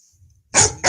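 A man imitates a dog with one loud vocal bark, then the start of a second, sharp and close after a brief quiet moment.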